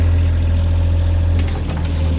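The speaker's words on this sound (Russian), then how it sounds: "слышно, что двигатель работает достаточно ровно" Japanese mini excavator engine idling, a loud, close, steady low diesel rumble that runs evenly throughout, with a slight rise in intensity briefly toward the end.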